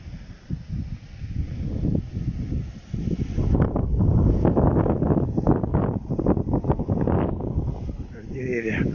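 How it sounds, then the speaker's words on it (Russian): Strong wind at a dugout shelter in the woods buffets the microphone in loud, roaring gusts that swell and persist throughout, with trees swaying. "Ветер, сами слышите, достаточно сильный."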